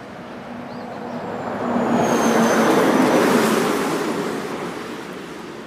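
A freight train on a rail line rolls past nearby, its broad rumbling roar swelling to a peak midway and easing off, with a faint high squeal over the top.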